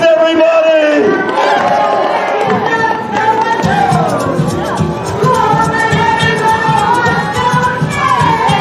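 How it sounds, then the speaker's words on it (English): A crowd at a holiday show in an amusement park cheers and shouts loudly, a dense roar of voices with whoops over pounding music. "Give him a round of applause."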